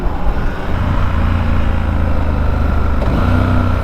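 A Triumph Scrambler 1200 motorcycle with a stock exhaust rumbles steadily while riding, its deep engine note loud and continuous, with a brief shift in pitch near the end.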